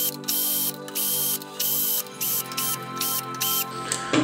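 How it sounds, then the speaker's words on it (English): A powered screwdriver backs screws out of the rear of a loudspeaker panel, sounding as a series of loud, close whirring bursts separated by short pauses. "You can do this using a powered screwdriver if you would like."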